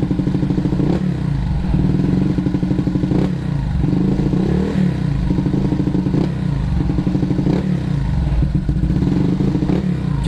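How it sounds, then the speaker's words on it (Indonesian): Bored-up Honda PCX 160 scooter engine revving loud and close, its exhaust sputtering in a wet, rapid burble that swells and dips in repeated throttle blips. "Cuman suara knalpotnya jadi kayak lebih basah gitu, agak berebet."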